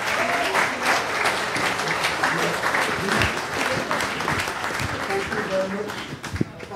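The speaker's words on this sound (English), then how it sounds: "please let's give him a round of applause" A seated audience claps for a guest before a one-on-one interview with Dr Keith Rowley: a steady, moderately loud burst of hand clapping, with voices talking over it and a few thumps near the end.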